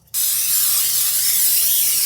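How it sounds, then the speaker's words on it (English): A single steady hiss of cooking spray oil released close up into a brownie baking pan, starting abruptly and continuing for about two seconds. "I'm gonna get some cooking spray oil"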